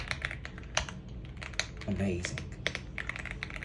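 Typing on an AULA F75 mechanical keyboard, a quick run of sharp clacky keystrokes in irregular rhythm, close and fairly quiet, with a brief spoken word partway through.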